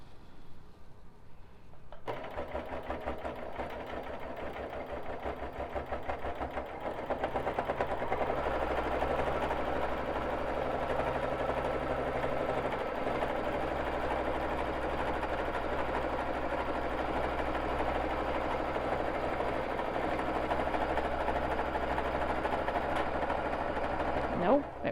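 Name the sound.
Baby Lock Jazz II sewing machine stitching lock stitches with Aurifil thread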